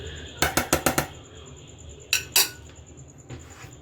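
A lid set over a pan of fried rice, a quick burst of five metallic clinks followed by two sharper knocks a moment later, close and clear, with a high steady tone lingering in the background.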